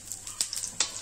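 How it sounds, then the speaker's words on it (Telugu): Onion pieces frying in butter in a pan, making a soft, thin sizzle with a few light scraping stirs, quiet and close, with no voices. "కొద్దిగా ఫ్రై అవనిద్దాం।"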